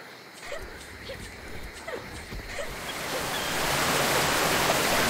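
Water rushes steadily past watermills irrigating a green field in Raji, a soft continuous wash that swells louder toward the end, with a voice speaking over it.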